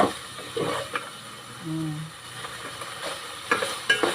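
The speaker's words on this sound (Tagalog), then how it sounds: "Luto na yung karne. Yan, napipritos na." Meat fries and sizzles in a pan for dinuguan, a steady hiss with a few stirring scrapes and clinks, close by, while a voice speaks briefly in the background.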